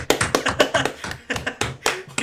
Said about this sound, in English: We just start clapping again